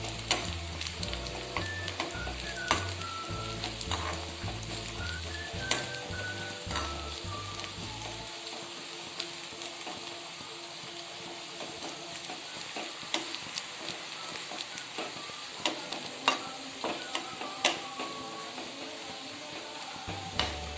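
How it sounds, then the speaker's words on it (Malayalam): Chopped onions sizzle and get stirred in a hot pan with a splash of water, for a Kerala prawn and raw mango curry. A continuous close crackle with light scraping runs throughout, over a faint rhythmic thump early on. "അത് ബ്രൗണിഷ് കളറാവുന്ന വരെ നമുക്കൊന്ന് ഇളക്കി കൊടുക്കാം"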